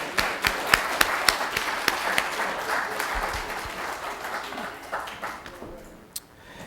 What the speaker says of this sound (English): Once again, ladies and gentlemen, another round of applause for Mr. Mallory.